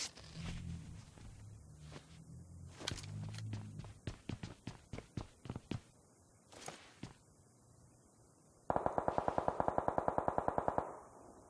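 Video game gunfire crackles in a quick burst of close shots, then a long rapid automatic stream near the end, loud and sharp over a low background rumble, with no talk.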